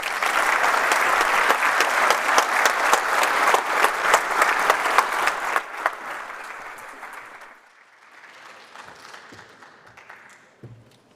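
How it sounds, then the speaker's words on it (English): Warm applause from a conference audience at Church House Westminster follows Rosana Costa's presentation, a loud, dense round of clapping that carries on for several seconds, then thins out and fades to scattered claps and quiet room noise. "let's give another round of warm applause to Mrs. Rosana Costa's presentation"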